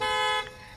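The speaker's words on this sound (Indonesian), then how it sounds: "Maddie menyalakan alarm mobil untuk menjebak psikopat itu." A car alarm blares in a horror film, a loud, steady, harmonic honking tone for about half a second that cuts off abruptly, leaving a quiet tail.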